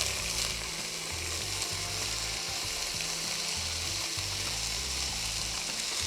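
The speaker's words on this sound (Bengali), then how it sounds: "রাইসটা দিয়ে কি আমরা বেশ খানিকটা সময় একটু নেড়ে ছেড়ে ভেজে নেব চালটাকে?" Boiled fragrant chinigura rice frying in a pan for pulao, a steady continuous sizzle with stirring scrapes, no talking.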